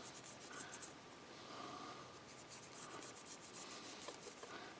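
A straight razor is rubbed down during cleanup, giving a faint, close, steady scrubbing and rasping that runs without pause, with a few lighter brushing strokes in between.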